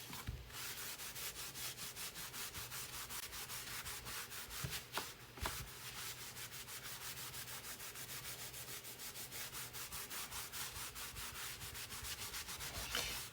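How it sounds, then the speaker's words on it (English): Painted Christmas decor is rubbed back and forth with a wet wipe, giving a soft, faint, steady scrubbing rhythm of quick repeated strokes close by, with no talking. "you want to be careful when rubbing this because you can rub the paint off"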